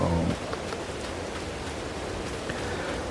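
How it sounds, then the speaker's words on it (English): Steady rain falls in Farming Simulator 22 on an Ohio farm, a continuous even hiss of moderate loudness with no talking over it. "Should only rain for about an hour or so"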